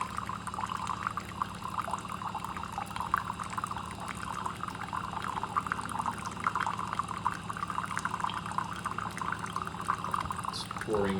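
Hot water set to 200 degrees Fahrenheit pours steadily from a countertop reverse osmosis dispenser into a cup, a continuous faint hiss and trickle under people talking.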